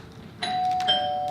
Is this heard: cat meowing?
no